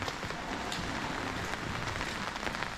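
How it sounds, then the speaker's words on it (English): Steady rain falls across the back streets of Lyon on an uphill climb toward the city's highest point, a dense, even hiss of drops on pavement close by with no voices. "Still pissing rain, unfortunately."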